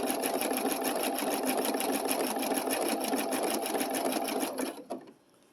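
A sewing machine runs steadily while blanket stitching appliqué around a small corner of a Y shape, a close, continuous mechanical whir that stops abruptly near the end.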